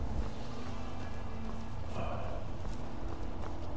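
Horse hooves clip-clop steadily in Skyrim, a soft even walking rhythm set against a constant low ambient bed of wind and game atmosphere, with no voices.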